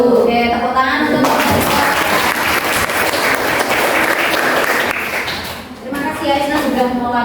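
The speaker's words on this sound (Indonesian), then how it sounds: "Oke, tepuk tangan untuk" A classroom of students claps for a presenter, a burst of dense, close applause lasting about four seconds between stretches of talking at either end.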